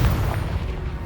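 Confringo fire blast spell in Hogwarts Legacy, a single deep booming explosion that rumbles on loudly.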